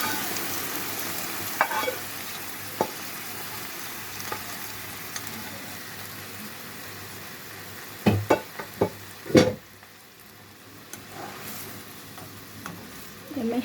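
Mung beans frying in a pan with small shrimp mixed in, a steady low sizzle running throughout, with a cluster of sharper clinks and stirring knocks partway through.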